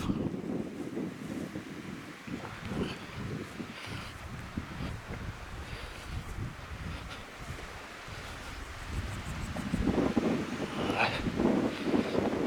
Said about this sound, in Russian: Ветер усиливается